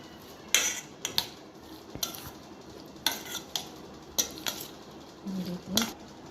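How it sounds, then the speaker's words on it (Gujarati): Falahari bhel is tossed with spices in a bowl, with a spoon scraping and clinking against the sides in irregular bursts and louder knocks, close up. "થોડું વધારે પડતું આપણે મિક્સ કરવાનું એટલે મસાલો એકદમ બધામાં સરસ ચડી જાય"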